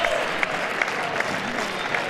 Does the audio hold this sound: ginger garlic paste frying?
no